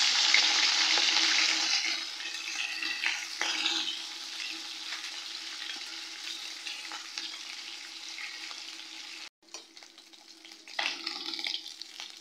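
Katla fish pieces sizzling in hot oil after being turned, a loud bright crackle at first that settles into a steady fry with brief stirring scrapes and a short break near the end.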